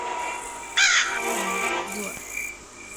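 A crow in the Granny 3 horror game gives one loud, harsh caw near the start, then fainter calls over a quiet background with an insect-like hum.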